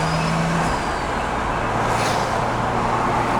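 Nissan Skyline GT-R R33 with custom catalytic converter piping idling, a steady low engine drone with intake rumble and passing truck traffic nearby, no talk.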